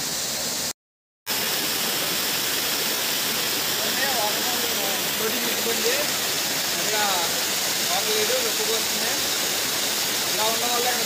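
Sarugudu waterfall pours in a steady, close, broadband roar with a short dropout near the start, while a voice talks over the rushing water.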